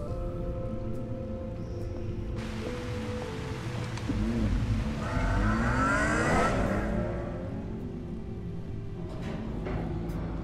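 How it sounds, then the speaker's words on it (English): An electric car in Batman: The Enemy Within driving past with a smooth, rising whine that swells and sweeps upward in pitch midway, then fades back into a low steady background hum. "It sounded kind of like an electric car."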